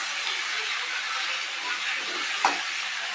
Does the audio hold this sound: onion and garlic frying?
yes